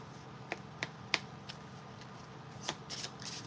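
A cherry blossom tarot-style card deck being shuffled by hand, soft riffling and papery flicks with a few sharper card snaps, close but quiet over a low background hum.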